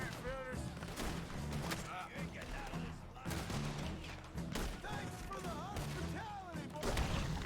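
Scattered gunshots crack in bursts during a Red Dead Redemption II shootout, sharp reports spaced irregularly and mixed with voices shouting and talking.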